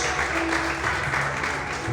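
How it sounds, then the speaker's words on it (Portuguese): Church congregation applauding during a pastor's sermon, a continuous, fairly loud wash of clapping across the room with a low hum beneath it. "Você pode aplaudir ao Senhor por isso?"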